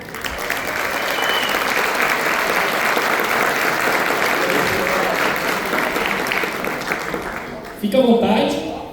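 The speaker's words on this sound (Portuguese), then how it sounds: "Quero que vocês acolham com uma salva de palmas para compor esse painel" A conference audience at a business panel event applauds steadily to welcome a speaker, broad and sustained, before the clapping gives way to a voice near the end.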